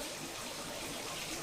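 Water from a hose spills over the rim of a filling waterfall tank, a steady broadband rush and splash that continues evenly throughout, with no talking.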